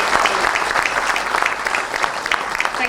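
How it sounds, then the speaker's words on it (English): A crowd at a business panel discussion on funding gives a big round of applause, loud, close and continuous clapping throughout. "Can we please have a big round of applause?"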